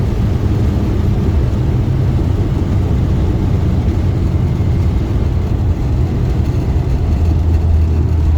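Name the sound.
Morris 1100S car driving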